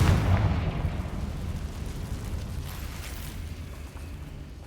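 Explosions from the Confringo spell in the video game Hogwarts Legacy open with a loud booming blast, then trail off into a long rumbling, crackling decay with no talking.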